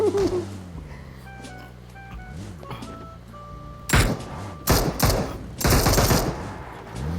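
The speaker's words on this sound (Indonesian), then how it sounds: "Lu lihat gue nembak bot juga." Video game gunfire as a player shoots at bots, with several loud bursts of rapid shots in the second half after quieter electronic game tones and clunks at the start.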